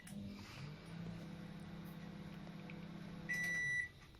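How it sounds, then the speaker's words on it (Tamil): A microwave oven runs on a two-minute cycle, its steady low hum droning close by, then a high, sustained electronic beep sounds near the end as the cycle finishes. "மைக்ரோவேவ்ல 2 மினிட்ஸ் வைக்கிறோம்"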